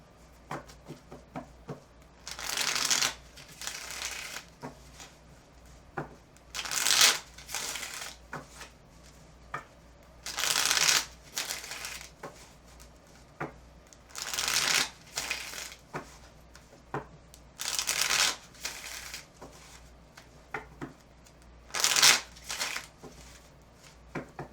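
Tarot cards being shuffled in repeated bursts, each a crisp riffling flutter lasting about a second, separated by short quiet pauses, close by.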